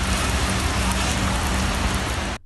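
Heavy rain pours down steadily on a street in a downpour, a dense continuous hiss of rainfall at constant loudness that cuts off abruptly at the end.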